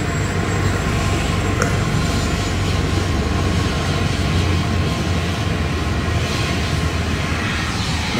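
A helicopter flies at an airport, its loud, steady engine and rotor roar filling the whole stretch without a break and with no voices.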